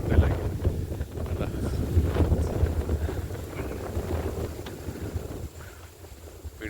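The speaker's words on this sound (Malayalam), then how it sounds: "അതാണൊക്കെയുള്ള കാറ്റ് അടിക്കുന്നത്" Strong wind buffeting the microphone on an open hilltop at Muttara Maruthimala in Kollam, a continuous loud low rumble with gusty swells that eases slightly near the end.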